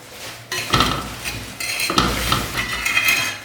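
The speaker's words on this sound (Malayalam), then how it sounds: "നമുക്കിത് ചട്ടിയിൽ നിന്ന് എടുക്കാം." Scraping and clinking of a utensil against a pathiri clay pan as ottada is lifted out, in a few short irregular bursts of stirring and scraping with faint sizzling, close and without talk.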